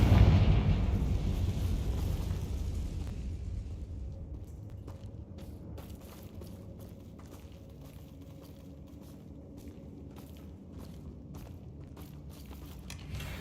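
A Confringo fire spell bursts in Hogwarts Legacy gameplay, opening with a loud booming blast that trails off into a lower rumble with scattered crackles and impacts.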